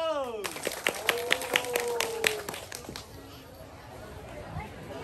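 At a crowded Sunday border-market game, a small group claps in a quick, regular run of sharp hand claps, then trails off while someone talks over and after them.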